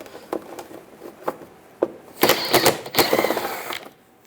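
Rear bumper bolt on a 2004-2008 Toyota Prius worked loose with a 10mm socket, sparse metallic clicks followed by a rapid ratcheting burst, close and clear with no talking.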